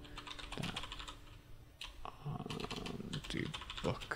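Keys clatter on a computer keyboard at a desk while a query is typed, a quick run of close, light clicks in uneven bursts with short pauses between them.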